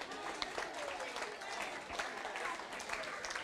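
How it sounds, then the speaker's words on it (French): An audience at a school delegates' recognition event applauds steadily, a continuous mass of clapping at moderate distance without a lull, with no one speaking over it. "Un tonnerre d'applaudissements pour le collège de Navarre."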